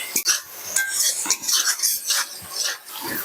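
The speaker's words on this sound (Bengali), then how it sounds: "দিয়ে কাজু পোস্তটা মশলার সাথে ভালোভাবে আমি কষিয়ে নেব।" A cashew and poppy seed paste is stirred and fried with spices in a pan, giving close, rhythmic scraping and sizzling strokes of a utensil against metal.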